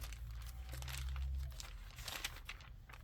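A sheet of paper in a Bible journal is handled up close, with crisp crinkling and rustling in quick irregular bursts.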